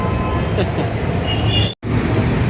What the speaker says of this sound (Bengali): আর ওই দেখো মেট্রো যাচ্ছে, চলে গেল।